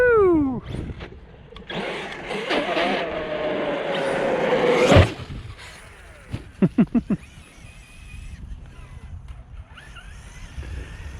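An Arrma Kraton 8s RC car on Leopard power drives past, its electric motor whining up and down in pitch and rising to a loud, close scream before cutting off abruptly, then quick throttle blips follow.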